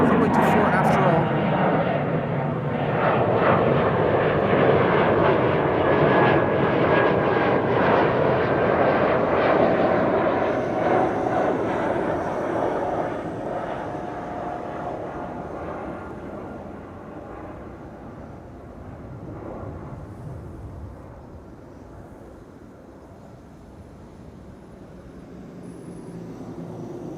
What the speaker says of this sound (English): E2 to Bergen. What do you know? Taking off from runway 24 after all.